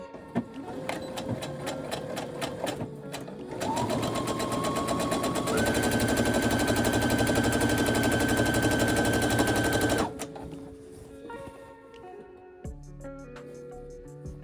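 Sewing machine stitching fabric in rapid bursts of fast, even clatter, the motor pitch stepping up as it speeds along, then stopping with a few slower stitches and clicks at close range.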